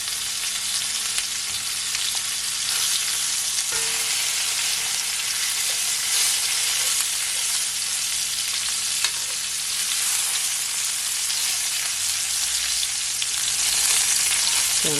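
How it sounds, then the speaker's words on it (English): A lamb chop sears in a hot pan, making a loud, dense, continuous sizzle that holds steady for the whole stretch with only small crackles and no talking. "So guys, I'm gonna turn over my lamb chop."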